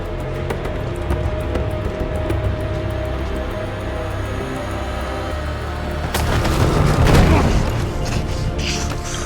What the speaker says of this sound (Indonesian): Scofield berlari sekuat tenaga dengan tembakan yang terus-terus mengarah kepadanya